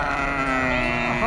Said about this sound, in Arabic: وهنا هذه ما شاء الله غنم جنة جرومها طيبة